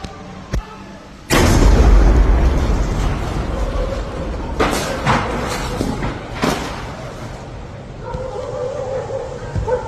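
Car explosions staged for an action scene in a Yemeni Ramadan 2025 drama: a sudden loud blast opens into sustained rumbling roar, followed by several sharp bangs and crackling debris, close and dominant with no speech.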